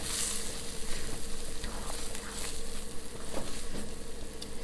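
Cream cheese melts in a pan over low heat with a steady soft sizzle and faint crackles, continuous and moderately quiet, with no talking.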